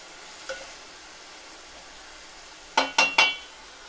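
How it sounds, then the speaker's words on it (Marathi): A lid comes off a pan of spicy cluster bean (guar) curry, followed by a soft steady sizzle and three sharp metallic clinks close together near the end as the vegetables are stirred. "आपण खोलून बघूया थोडं असं फिरवून घ्यायचं आपल्याला"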